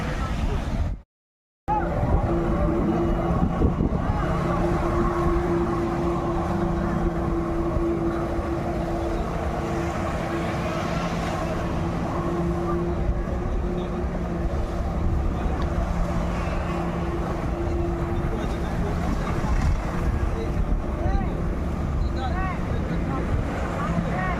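A motorboat running on open water, used for towing rides such as banana boats, gives a steady, continuous engine drone that holds at an even level throughout.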